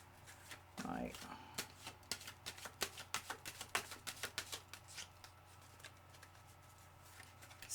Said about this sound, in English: a lot of probably really boring shuffling for you